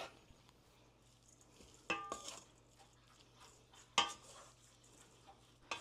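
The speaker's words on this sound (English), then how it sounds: "we are going to just stir it around a little bit" Salt stirred into homemade cottage cheese curds in a bowl, soft wet stirring with a few sharper clinks of a spoon against the dish, quiet and close, no talking.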